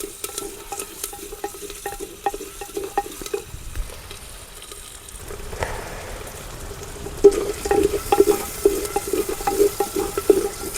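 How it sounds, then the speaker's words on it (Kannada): Urad dal and chana dal fry in a pan, a soft continuous sizzle broken by scraping stirs. The stirring grows louder and busier in the second half. "ಇವೊಂದು ಸ್ವಲ್ಪ ಗೋಲ್ಡನ್ ಕಲರ್ ಚೆನ್ನಾಗಿ ಹುರ್ಕೊಂಡ್ಬಿಡ್ರಿ"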